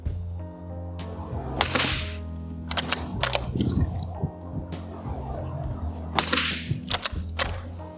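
Sharp shots from an 80-year-old military surplus CZ Brno .22 rifle crack outdoors at a target, several spaced reports with some quick pairs, while people talk between them.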